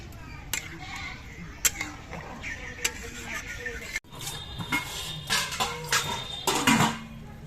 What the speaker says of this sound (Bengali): আতপ চালগুলো আমি ধুয়ে পরিষ্কার করে নিচ্ছি